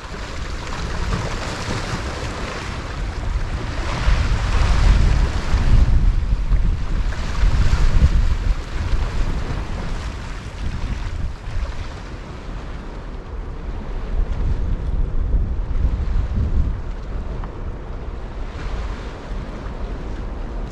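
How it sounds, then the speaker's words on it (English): A strong northeasterly wind buffets the shore of the Bristol Channel while rough water surges nearby. The roaring gusts swell and ease over a continuous wash of waves, with heavy wind noise on the microphone and no speech. "this northeasterly is quite nasty"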